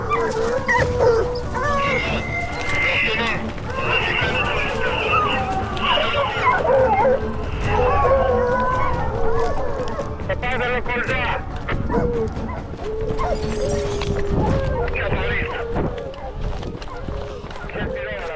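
Pack of hunting hounds on a wild boar hunt, barking and yipping excitedly in overlapping bursts with whimpers, moderately close in the woods, while people speak throughout.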